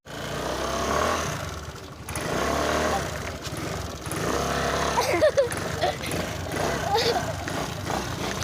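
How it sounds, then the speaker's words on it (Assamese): An Aprilia motorbike is ridden, its engine droning steadily for several seconds, rising and falling slightly beneath a person talking throughout. "এপ্ৰিলা চলাই অকণমান চলাই চালোঁ আজি ফাৰ্ষ্ট টাইম"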